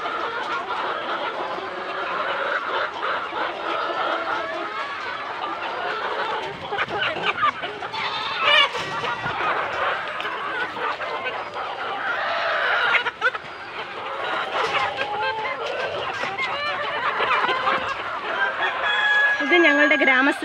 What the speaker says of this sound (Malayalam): ഗ്രാമശ്രീയല്ല, BV380 കോഴികളാണ് ഇത്.